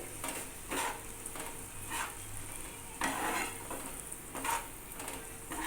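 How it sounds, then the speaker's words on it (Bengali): A spice paste of turmeric, sugar and water sizzles in hot oil for a pointed gourd and onion curry, a constant frying hiss broken by regular stirring scrapes, close and alone. "এবার মশলাটাকে দিয়ে মিনিট দুয়েক মতন একটুখানি কষিয়ে নিতে হবে"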